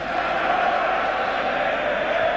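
A packed football crowd at the 1977 European Cup Final between Liverpool and Borussia Mönchengladbach keeps up a steady, roaring murmur, a broad distant wash of many voices with no single shout rising above it.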